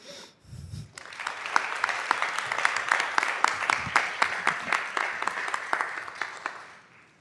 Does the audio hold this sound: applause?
yes